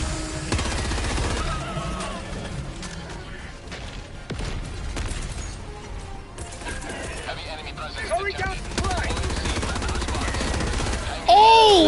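Sustained rapid automatic gunfire and explosions in Helldivers 2, a dense continuous barrage of shots with a voice talking over it throughout and a brief electronic whine near the end.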